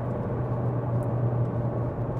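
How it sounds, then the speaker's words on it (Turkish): A 2018 Mazda 3 sedan with a 1.5 Skyactiv-G engine holds high revs under engine braking, giving a steady droning hum with constant road and cabin noise and no talk. "Güzel motor freni yaptı."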